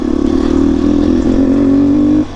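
Motorcycle engine running close and loud with a steady strong drone, holding continuously before dropping off slightly at the end; no talking.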